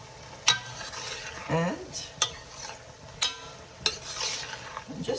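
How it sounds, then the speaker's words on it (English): Ground beef with spices and tomatoes is stirred in a hot pan, a spoon tapping the rim in sharp clicks about every second over continuous sizzling and scraping, close and clear. "And now quickly I will stir it for about a minute or two."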